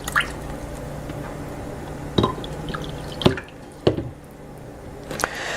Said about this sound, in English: So I'm going to just keep adding more water.